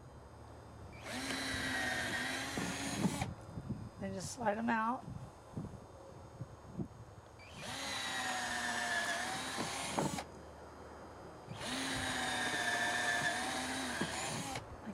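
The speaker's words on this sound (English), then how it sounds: "So I'm going to drill a hole, 2 screw holes in each of these boards" A power drill bores screw holes in wooden garden-box boards in three separate runs of steady whirring, each lasting a few seconds, with someone speaking briefly between them.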